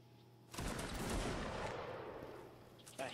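Musket volley from a Napoleonic line in an online line-battle game, one sudden loud crackling burst of many shots that rolls on and fades over about two seconds, followed by a smaller second report.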